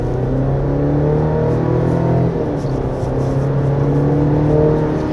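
A 2025 Chevrolet Colorado Z71 pickup truck engine pulls hard under acceleration in rear-wheel drive on a winding road, a steady low droning roar with pitch gradually climbing, heard from inside the cabin.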